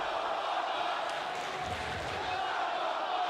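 A wrestling crowd at an indoor independent show reacts to the champion with a sustained, roaring wash of voices and jeers, steady and fairly loud throughout.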